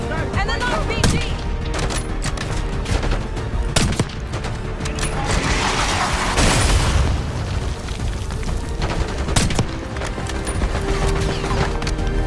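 A Call of Duty Black Ops battle fills the scene with continuous gunfire and heavy booms, with one big RPG blast swelling loudly in the middle over dense, chaotic combat noise.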